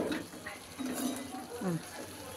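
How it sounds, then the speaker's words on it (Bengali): Fish gently stirred in a cooking pan, soft scraping and faint sizzling under a voice, with light clinks of utensil against the pan. "এইভাবে আস্তে আস্তে নাড়াবে, নাহলে মাছগুলো ভেঙে যাবে।"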